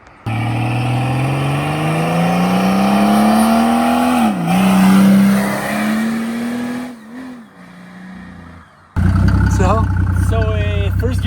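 A car with a Mercedes OM603 turbo diesel and a huge SuperTurbo pulls hard, the engine note rising through the gears with a climbing turbo whine and a dip at a shift, loud and close.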